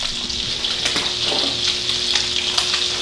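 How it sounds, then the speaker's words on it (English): Liver fries in butter with salt, giving a close, bright, steady sizzle with a few crackling pops and a faint low hum beneath it, with no one speaking. "Cooking that in some butter with salt."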